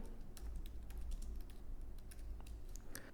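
Steady typing of a book title on a computer keyboard, quick irregular key clicks at close range and fairly quiet, with no voices.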